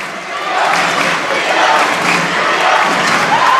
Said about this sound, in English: Near capacity crowd on their feet.